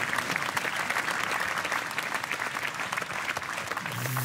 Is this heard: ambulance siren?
no